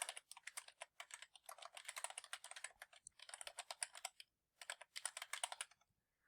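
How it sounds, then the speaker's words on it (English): An email and password being typed on a computer keyboard in quick, close bursts of clicking keys, broken by short pauses, with no talking. "on this page we want to type in our email and password in order to log in"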